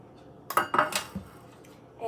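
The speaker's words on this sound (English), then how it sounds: "you want to take your tray," A metal cupcake tray is picked up and set down in a kitchen before greasing, giving a few sharp clattering clanks close by, then quiet.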